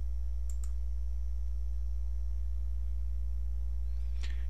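A computer mouse clicks a few times, two close clicks early and another a few seconds later, faint over a steady electrical hum.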